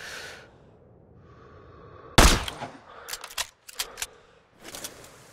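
A single loud, sharp sniper rifle crack in Sniper: Ghost Warrior 3, standing out after a quiet stretch, then followed by a few quick clicks and rattles of the rifle's action.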